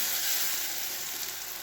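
Sweet pea filling for kachori cooking dry in a frying pan, a dense, even hiss of sizzling oil close up for a brief moment, no speech.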